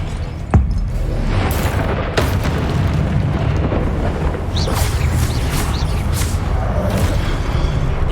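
The Confringo fire-blast spell in Hogwarts Legacy bursts with a sharp impact, then rolls into a loud, dense, roaring blast that stays sustained, with further cracks and crackles and no talk.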